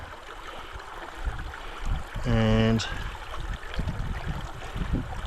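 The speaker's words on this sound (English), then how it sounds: "I put the pan in the water" Water sloshes and trickles as a sapphire fossicking pan is dipped into water, a steady wet swirl close by with a brief tonal hum in the middle and someone speaking over it.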